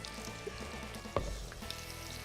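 Chopped onion sizzles and fries in butter and olive oil in a hot pan, a steady close crackle with one sharp pop partway through, no voices.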